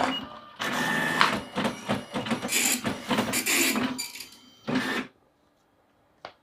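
An Epson PLQ-30 passbook printer prints a page. Loud, rapid mechanical chattering comes in bursts with short pauses and a final clunk, then stops, leaving near silence and one small click.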